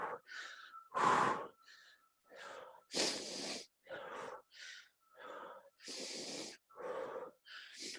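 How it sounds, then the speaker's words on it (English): Slow, deliberate breaths drawn in through the nose and pushed out through the mouth during a cycling coach's relaxation drill, close and clear, in a steady rhythm of about a dozen audible inhales and exhales with brief pauses between. "In through your nose, out through your mouth."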